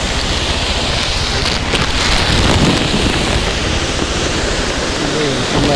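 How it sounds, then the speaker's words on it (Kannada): Kadambi waterfall near Kudremukh in full monsoon flow gives a loud, steady broadband roar of falling water, constant throughout with no pauses or voices. "ಇದು ನೋಡಿ ಕಡಂಬಿ ಫಾಲ್ಸ್ ಅಂತ, ಇದು ತುಂಬ ಚೆನ್ನಾಗಿರುವಂಥ ಫಾಲ್ಸ್."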